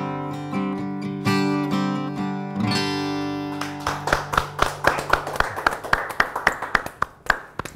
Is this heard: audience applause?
yes